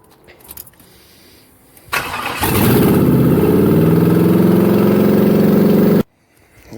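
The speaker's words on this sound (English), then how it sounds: "It's gotta be so damn loud because I got this damn throttle wound up or something." A boxy Chevrolet engine with its throttle stuck partly open roars loudly and steadily for several seconds after a brief start-up, then cuts off abruptly, leaving quiet background.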